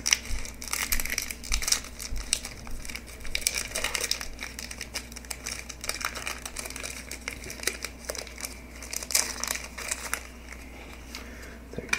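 A Pokémon Fates Collide booster pack's foil wrapper being torn open and handled, close crinkling and crackling in irregular bursts, loud and alone.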